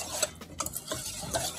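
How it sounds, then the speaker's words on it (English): A small whisk beats sweet potato pudding batter with cinnamon and sugar for a Jamaican dessert, making a quick, scratchy, rhythmic swishing against the bowl that sounds close and steady. "the little whisk here, and just whisk it out"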